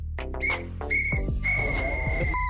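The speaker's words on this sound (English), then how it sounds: "Blow the whistle." Whistle blasts ring out in sharp, high bursts, several short toots over a thudding musical beat, loud and close.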